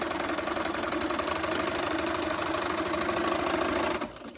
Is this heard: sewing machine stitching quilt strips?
yes